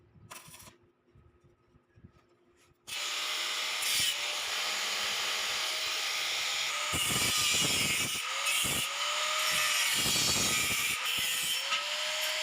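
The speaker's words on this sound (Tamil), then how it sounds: "இந்த பீஸ் கட் பண்ண நீங்கள் பார்த்தீங்க" A power tool cuts a piece for the frame of a European-style slanting balcony safety grill. After a quiet start, a loud, continuous, close cutting whine begins and holds steady with shifting tones.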